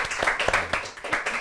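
A small audience claps in a brief, uneven burst of applause to thank a panel at a Korean church mission seminar, with separate hand claps loud and close for just over a second.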